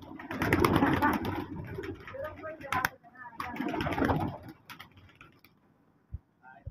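Giribaj pigeons cooing in soft, repeated bursts nearby, with people talking around them and a few light taps near the end.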